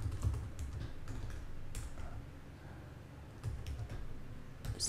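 Typing on a computer keyboard, a quiet run of soft key clicks in short bursts with brief pauses, heard alone over a low background hum.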